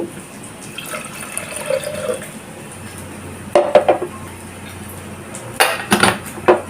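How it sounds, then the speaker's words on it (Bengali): A small amount of water splashes into mashed biuli lentil dal in a pan over a low flame, with a quiet stretch followed by short pours and clinks of a utensil against the pan. "ম্যাশ করা ডালটার মধ্যে সামান্য পরিমাণ জল অ্যাড করব"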